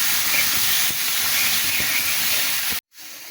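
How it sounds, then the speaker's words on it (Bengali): Green banana frying in a pan, a loud continuous hiss of hot oil with a few faint stirring knocks, close up, cutting off abruptly near the end. "এবার নাড়াচাড়া করে একটু ভেজে নিই"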